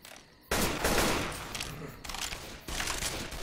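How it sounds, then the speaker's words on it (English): Loud shotgun blasts ring out in Left 4 Dead 2 as a combat shotgun fires at zombies, with three heavy booms spaced about a second apart. "It's a combat shotgun. Shoot that zombie in the back."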